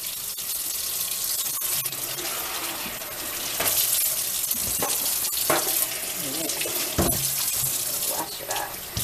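Water runs steadily from a kitchen tap as a metal baking pan for chicken wings is rinsed out, with splashing and clatter in the sink.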